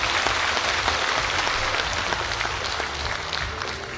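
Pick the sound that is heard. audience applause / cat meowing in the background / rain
audience applause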